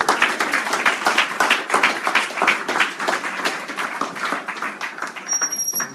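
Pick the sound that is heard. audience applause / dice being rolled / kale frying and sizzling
audience applause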